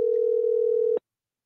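A telephone dial tone sounds steady and loud for about a second while a call is placed, then cuts off abruptly into silence.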